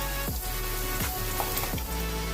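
Asafoetida dropped into hot oil already crackling with coriander, cumin and fenugreek seeds for Gujarati kadhi, giving a loud continuous close sizzle with faint repeated scraping strokes.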